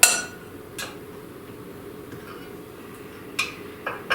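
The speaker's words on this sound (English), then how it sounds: "you're going to take your spoon and you're going to fill up your donut well in there" A spoon scoops thick keto bagel dough into the wells of a donut pan, making a few scattered light metallic taps and clinks over quiet room tone, with a sharper clink at the start.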